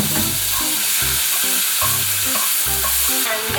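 Enoki mushrooms sauté with garlic in sesame oil in a hot pan, giving a loud, continuous sizzle with stirring scrapes over rhythmic background music.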